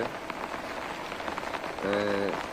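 Steady rain falls over Dhaka during Cyclone Remal, a dense continuous patter close by, with a brief tonal sound rising near the end.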